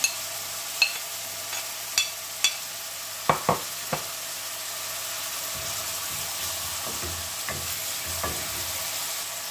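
Ginger and garlic frying in a pan for a green tomato and fish curry, a soft continuous sizzle broken by sharp scrapes and clacks of stirring, clustered early then sparser later.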